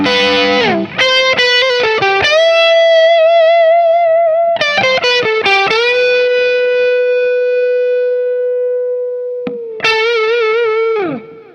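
Electric guitar played through gain with shifting tones: loud, distorted chords and notes ring out with long sustain and slight wavering pitch, with a few quick picked stabs between held notes and no talking.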